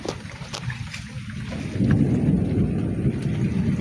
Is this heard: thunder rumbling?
yes